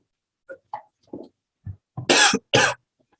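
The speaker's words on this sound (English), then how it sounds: "still got a bit of post-COVID cough" A speaker with a lingering post-COVID cough coughs during a dermatology webinar lecture: a few short throat sounds, then two loud, harsh coughs close together near the microphone.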